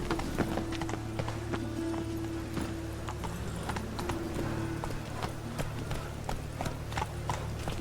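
Roach, the horse in The Witcher 3, gallops with steady, close clip-clop hoofbeats over a low droning background, and a brief whinny sounds early on.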